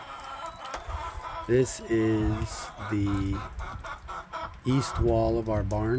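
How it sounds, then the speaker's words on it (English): Chickens on a homestead cluck in several short bursts beside the east wall of a barn, fairly close and mixed in with someone talking over them. "You can hear the chickens right now"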